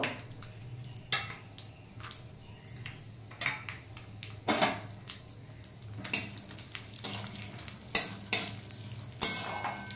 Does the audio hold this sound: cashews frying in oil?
yes